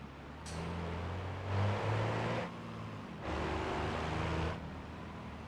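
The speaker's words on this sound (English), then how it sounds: "It's a good sounding truck." A modded MD70 dump truck engine in the driving game BeamNG, a steady low engine drone that swells twice as the throttle opens and rises in pitch, with a brief lull between pushes and no talk.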